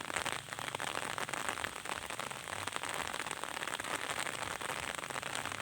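Rain falls steadily on surfaces outdoors, a dense, even patter of drops with small crackling taps, close and continuous throughout with no talking.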